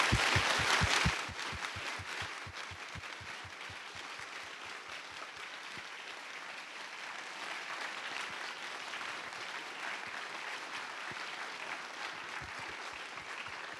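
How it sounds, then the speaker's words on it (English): Applause from the audience at the Strings 2018 physics conference, a clear burst of rhythmic clapping at first that quickly drops to a softer, steady background patter for the rest of the stretch. "suggest that we give a loud applause already now to the Okinawa"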